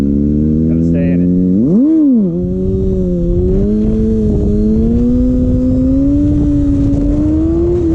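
A Kawasaki ZX-6R motorcycle engine revs hard, climbing in pitch, dipping briefly, then holding a loud rising drone while riding.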